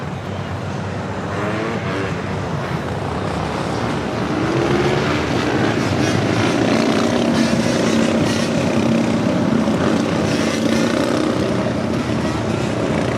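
Lufthansa Boeing 747 jet taxiing at LAX, a continuous loud engine rumble and whine that builds slightly midway and stays steady and close.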